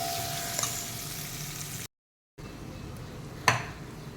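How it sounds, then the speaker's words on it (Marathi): Raw mango and rice mixture sautéing in a pan over a low gas flame gives a soft, steady sizzle with a brief silent gap and a couple of faint utensil clinks. "दोन तीन मिनटं आपण हे परतून घेऊया गॅस मंदाच्यावरच आहे"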